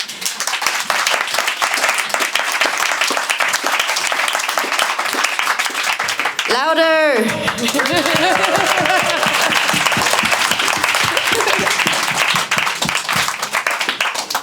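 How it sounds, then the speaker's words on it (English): An audience at a fireside chat event claps continuously and densely throughout. A voice shouts briefly partway through and a whistle-like tone sweeps past. "a round of applause,"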